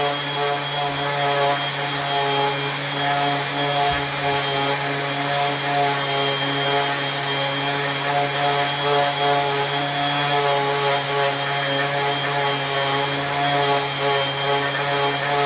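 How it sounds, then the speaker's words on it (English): A power sander at 400 grit micro-sands a tree cookie wood sample, a steady, droning mechanical whine with strong tonal hum running unbroken throughout. "So we're at 400. This is micro sanding."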